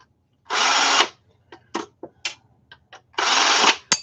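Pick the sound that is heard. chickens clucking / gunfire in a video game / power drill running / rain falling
power drill running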